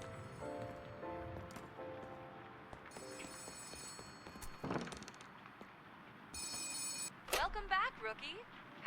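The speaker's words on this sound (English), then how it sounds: "The office phone is ringing." An office telephone rings in the video game Letter Lost, sounding as a few bursts of bright electronic ringing spread across the clip, mixed with rustling, footsteps and other game sounds at a quiet level.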